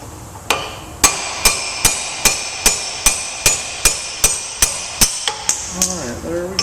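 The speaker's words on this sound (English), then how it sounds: "I'll show you how to pop these wheel bearings out of a Geo" Steady metallic hammer blows driving wheel bearings out of a 1990 Geo Metro held in a vise, about a dozen sharp, evenly spaced ringing strikes, loud and close, ending with a brief clatter.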